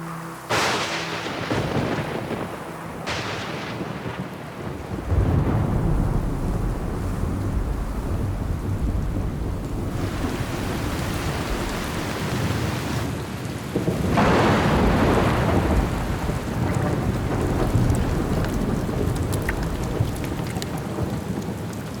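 A tropical thunderstorm pours heavy rain in a steady hiss while loud thunder cracks and rolls several times, booming close and long, with no voices.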